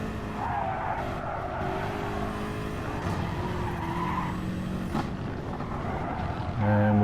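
A BMW M6 race car in Gran Turismo Sport skids around a hairpin, tires squealing over a steady engine drone with faint competing cars in the background, continuous and moderately loud.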